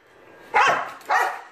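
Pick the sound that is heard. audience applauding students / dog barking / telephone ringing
dog barking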